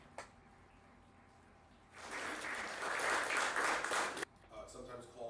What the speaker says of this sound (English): Those claps are loud.